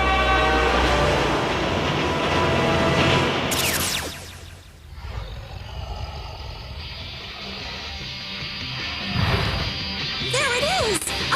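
A subway train approaches in a Dinosaur King cartoon scene, a loud rumbling roar with a sharp horn-like burst and screeching, rising and falling over several seconds amid music.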